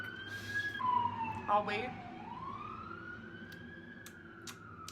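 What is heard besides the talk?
fire truck siren passing outside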